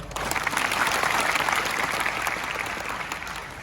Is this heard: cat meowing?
no